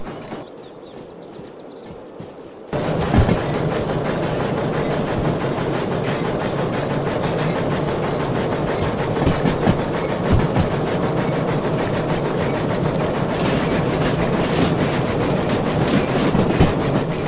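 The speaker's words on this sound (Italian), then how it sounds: "Questa locomotiva non è potentissima, ma basterà per il nostro lavoro di oggi." A steam locomotive in Derail Valley, not very powerful, starts up after a short quiet lead-in and runs with a loud, steady rumble and rhythmic clatter that continues without talk.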